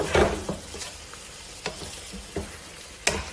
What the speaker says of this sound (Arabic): اقلب واضيف الحين الاندومي